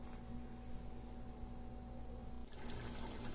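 Water is poured into chicken gravy in a pot for white chicken pulao, a brief liquid rush and splash over a low steady hum, swelling into a brighter splatter toward the end, with no talking.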